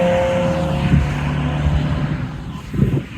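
Mazda MX-5 NC race car with no headlights, passing on the Donington Park circuit during a track day: a steady engine drone with swells as it goes by at mid distance, amid other track noise.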